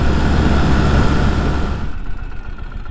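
A sidecar motorcycle engine idles close by in a loud, rough, low-pitched rumble that eases back and drops to a quieter, thinner putter near the end.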